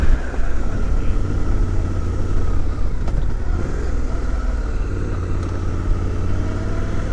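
A Suzuki V-Strom 800 motorcycle engine runs steadily on gravel, loud and close, with a continuous low drone, light clatter and wind noise throughout.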